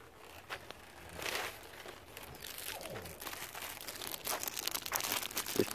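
A thin Dollar Tree plastic sheet being handled while a Kia Optima rear bumper is taped off for painting, giving close, faint, irregular crinkling and rustling.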